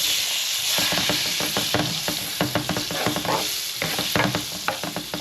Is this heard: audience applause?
no